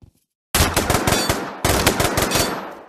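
Loud, close machine gun fire in the Pavlov shooter game, two sustained bursts of rapid shots separated by a brief pause after a moment of silence.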